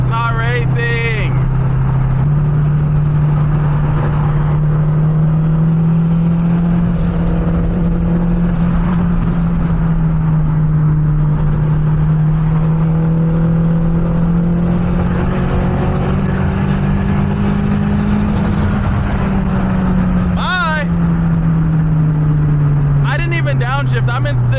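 A turbocharged K24 Honda car engine pulls hard in sixth gear during a street race, a loud, steady droning roar that slowly rises and falls in pitch, with a person talking over it.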